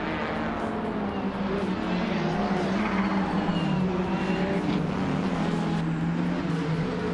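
A 2017 Porsche 911 R race car engine at a race start, a loud, steady, close roar with the revs rising and falling over several seconds as other cars run alongside.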